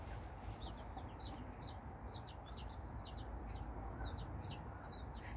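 Newly hatched Cheonggye chicks hatched under a white silkie (Baekbong Ogolgye) hen on a farm, heard as repeated high, soft peeping chirps scattered over steady low background noise, fairly faint and with no talking.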